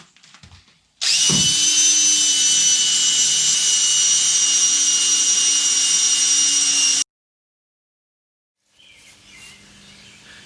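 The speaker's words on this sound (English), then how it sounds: "now we got more drilling to do" A power drill whines loudly and steadily for about six seconds while screwing down trailer bed rails, then stops abruptly; faint background noise returns afterward.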